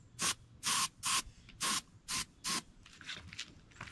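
Short bursts of an airbrush mist dark paint along the back of a bluegill fish replica mount, six crisp hissing sprays in quick rhythm, close and clear, followed by faint softer puffs.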